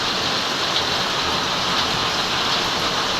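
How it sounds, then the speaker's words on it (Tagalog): Heavy rain pours down in a dense, unbroken hiss that stays loud and steady throughout, with no voices. "lumalakas po yung ulan"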